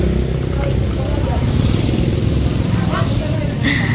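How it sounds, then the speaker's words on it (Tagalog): A motorcycle is ridden in at a house during a fiesta, its engine running loud and close throughout with a steady rumble. "Pinapasok na po ni Layla dito yung motor."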